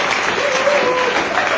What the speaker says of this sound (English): some of you are clapping and getting excited